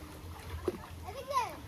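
A child learning to swim in a river with boats nearby, splashing water in short bursts while people talk over it, moderately close and fairly quiet.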